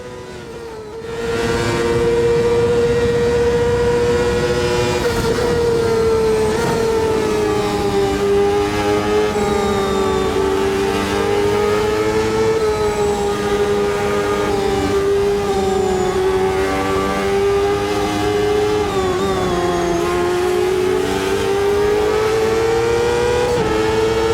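Race car engine in the Automobilista 2 sim racing game during a league race, a loud, sustained close drone that holds steady with gentle rises and falls in pitch as the car works through a lap, with no talking.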